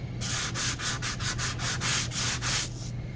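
Metallic cardstock paper being sanded by hand in quick back-and-forth strokes, a rhythmic series of close, crisp scratchy rasps, about a dozen in a row with no talking.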